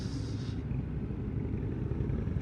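Harley-Davidson Fat Boy motorcycles on a Sunday ride to Lonavala rumble past as a low, steady engine drone at moderate distance, with no talk.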